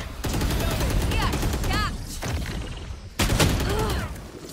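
Rapid gunfire rattles through a GTA roleplay gunfight, dense overlapping bursts of automatic shots that are near and loud, with brief gaps and a renewed volley near the end, while voices talk underneath.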